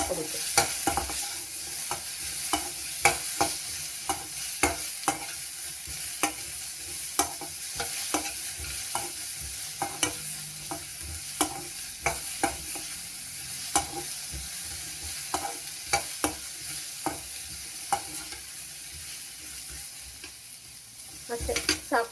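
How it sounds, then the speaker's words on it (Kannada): Grated coconut fries in a hot pan, a soft steady sizzle broken by frequent scraping strokes of a spoon stirring it, close and without talk. "ಇದಕ್ಕೇ ಈಗ ಕೊಕೊನೆಟ್ ಹಾಕ್ತಾಯಿದ್ದೀನಿ. ಸುಮ್ಮನೆ ಜಸ್ಟ್ ಹಾಗೆ ಫ್ರೈ ಮಾಡ್ಕೋಬೇಕು ಅಷ್ಟೇ"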